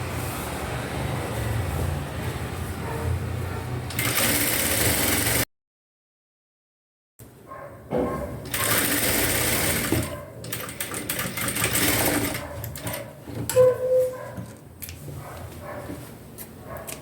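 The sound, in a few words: sewing machine stitching a half-centimetre side seam on a dress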